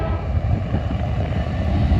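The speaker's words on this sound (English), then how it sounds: "Looks like a unit oil train here." A loaded crude oil unit train at Oak Harbor, hauled by three diesel locomotives (a D9-44CW, an SD70ACe and an ES40DC), rolls past at speed, a steady loud low rumble of wheels and engines filling the whole stretch without pause.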